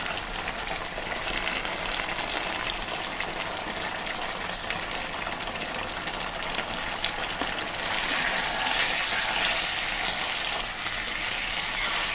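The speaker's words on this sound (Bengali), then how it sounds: "বাদাম বাটা দিয়ে একটু হালকা নেড়ে চেড়ে কষিয়ে নেব।" Eel fish and potato pieces sautéing with cashew paste in a pan, a steady close sizzle and fry hiss that swells slightly toward the end, with no voices.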